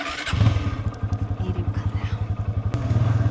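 A motorcycle ridden at night chugs with a fast, even, pulsing engine beat that swells as it revs, close and loud, with a brief clatter partway through.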